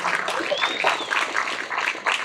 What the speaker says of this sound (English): Give it a round of applause for you gentlemen.